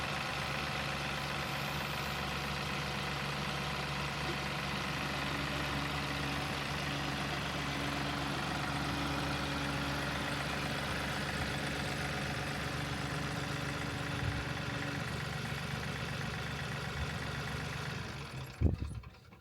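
A farm tractor idles in a steady, continuous low rumble with a droning hum, close and constant, before a brief knock and shift near the end.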